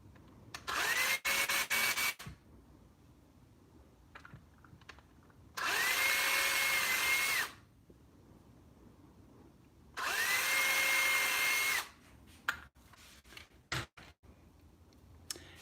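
A power drill bores a hole into a plastic wheel for a DCP T800 Kenworth model truck: three separate high, whining bursts of about two seconds each, close and loud, with quiet handling clicks between them.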